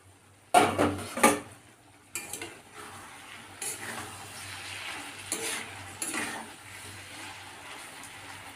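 A lid is lifted off a cooking pan, a sharp metallic clatter followed by a couple of knocks and scrapes, then a softer ongoing sizzle and occasional utensil taps close by, without talk.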